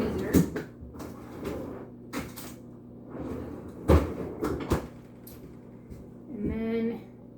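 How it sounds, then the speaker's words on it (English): A freezer door opens and closes with several hollow thumps and a soft seal clunk, mixed with knocks from handling items in a home kitchen during soap making, and a brief voice near the end. "So I'll put this back in the freezer"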